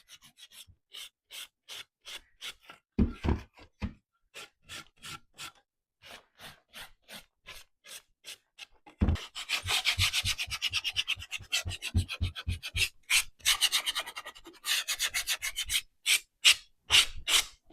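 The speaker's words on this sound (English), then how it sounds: "I'm just going to sand by hand. That way I can kind of control where I'm sanding." Hand sanding of a thrifted wooden home decor piece, heard as quiet, rhythmic rasping strokes in short bursts that become faster and denser toward the end, close and alone with no talk.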